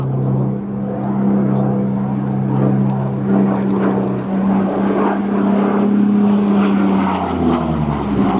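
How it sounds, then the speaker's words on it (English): Spitfire and Hurricane propeller fighters flying a display at an airshow, a steady droning engine roar that swells slightly as the aircraft pass, with a commentator's voice faintly under the noise. "flying this Spitfire and this Hurricane"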